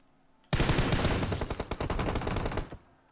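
Rapid automatic gunfire from the game PUBG Mobile rattles for about two seconds in one sustained, close, loud burst that starts abruptly and cuts off, with no talk over it.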